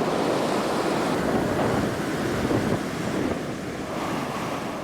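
Ocean waves break along the West African coast in a continuous, rushing surf roar, mixed with wind hiss and steady throughout.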